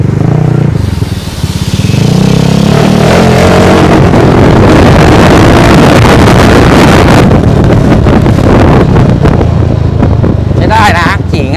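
A Honda Forza or PCX160 motor scooter on the move, its engine drone mostly buried under loud, constant wind roar on the camera microphone.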